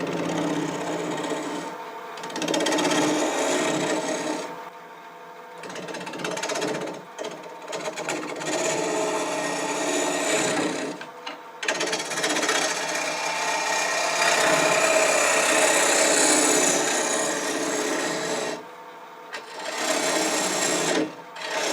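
A wood lathe hollowing a bowl from a chunk of green wood, the tool scraping and rasping in long bursts with brief pauses between cuts, close and fairly loud.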